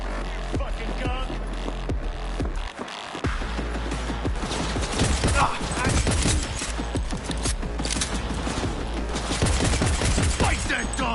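Rapid gunfire in Cyberpunk 2077 combat: dense bursts of close, loud shots and automatic fire with mechanical clatter, nearly continuous with a brief gap early on, and a voice occasionally under the shooting.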